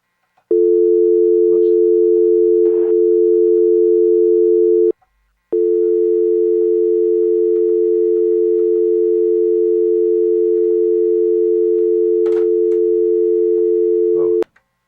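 Loud steady tone from a telephone line on an incoming call, holding for about four seconds, cutting out briefly, then droning on unbroken for about nine more seconds, with a few faint clicks and thumps over it.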